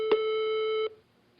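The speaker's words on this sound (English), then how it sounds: "Leave your message at the beep and I'll come back to you." An answering machine gives a single steady electronic beep lasting nearly a second, clean and alone, then cuts off into near silence.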